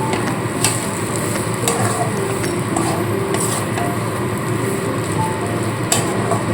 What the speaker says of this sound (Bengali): এবার মশলার সাথে খুব ভালো করে এভাবে মিশিয়ে একটু নাড়াচাড়া করে নিতে